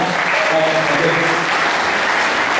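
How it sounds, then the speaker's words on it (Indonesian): Audience applause at a motivational talk on digital marketing, a steady, dense wash of clapping that stays loud throughout, with faint voices and a brief whistle-like tone mixed in. "Tepuk tangan sekali lagi ya."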